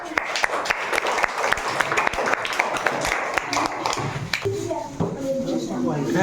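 Audience at a quiz competition applauds in a dense burst of many hands clapping, loud and close, then thinning out as a voice speaks over the tail end.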